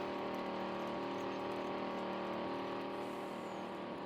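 A Farming Simulator 19 tractor engine drones steadily while pulling a disc, a sustained tonal hum at constant load with no voices over it.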